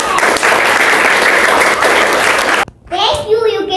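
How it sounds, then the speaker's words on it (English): A classroom of students claps loudly in a sustained burst for about two and a half seconds. The clapping stops abruptly and a voice speaks right after. "Clapping for others."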